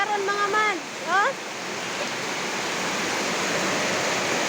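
Floodwater rushes steadily in a constant broadband roar after voices talk briefly at the start, then runs on alone at an even level.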